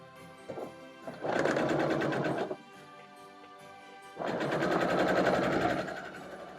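A sewing machine stitches quilt block pieces together in two sustained bursts of rapid, steady needle chatter, each a second or more long, separated by a quieter pause with only faint machine hum.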